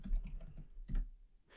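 Several keystrokes on a computer keyboard while entering a command in Windows, in two short bursts with a pause between them, soft and close by.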